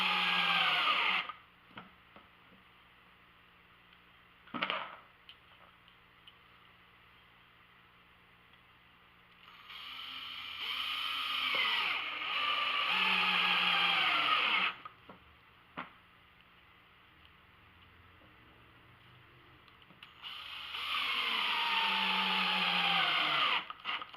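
A power drill drives screws into the wooden frame of a gold-mining drywasher, giving three or four whirring bursts of a few seconds each, close and fairly loud, with quiet pauses and a few clicks between them.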